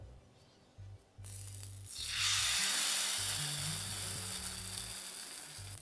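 Chitoi pitha batter hits a hot clay pan on a gas stove and bursts into a loud, hissing sizzle that swells after a couple of seconds of quieter clatter, then holds steady and close.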